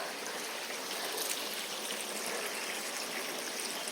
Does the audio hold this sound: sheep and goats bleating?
no